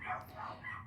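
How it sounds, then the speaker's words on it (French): Dogs barking in the distance, faint muffled yips and barks rising in a few soft bursts over a steady indoor background, with no talk. "excusez-moi si vous entendez les chiens aboyer"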